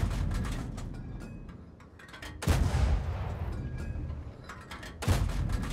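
Tank cannon shots in World of Tanks, from an M4A3(76)W Sherman: two loud, sharp booms a few seconds apart, each followed by a rolling decay, over a low rumbling game background.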